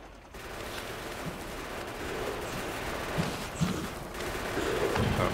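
Tank weapons in Factorio blasting away at enemy stragglers, a continuous dense clatter of rapid shots and explosions that holds steady and swells slightly toward the end, with no talk heard.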